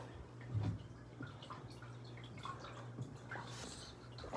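Water drips and trickles quietly, a faint close sequence of small irregular drops and splashes over a low, steady background hum.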